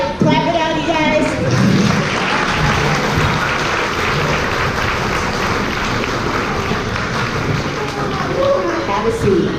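A crowd at a Beacon Way Day event clapping steadily and loudly for nearly ten seconds, a dense, unbroken wash of applause with some voices mixed in.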